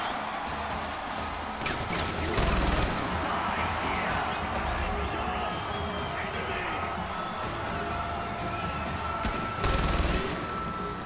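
Video game gunfire from Far Cry 4: dense, sustained bursts of shots and crashing impacts fill the stretch, swelling louder twice, over a busy game soundscape.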